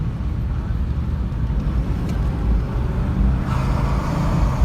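A 1994 Cadillac Sedan DeVille with a 4.9 V8 and nearly 200k miles pulls away gently, a steady low engine rumble with road noise swelling slightly as speed builds, heard from inside the cabin.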